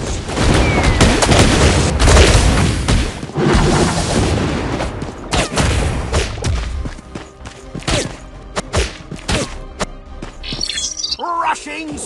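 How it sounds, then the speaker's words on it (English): Banana bombs burst in a LEGO Nexo Knights game as a boss fight with Merlok 2.0 and Flama goes on, dense loud booms and thuds layered with chirpy game effects and music, with a voice calling out over them. "banana bombs!"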